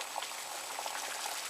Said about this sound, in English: now that our water is coming to a boil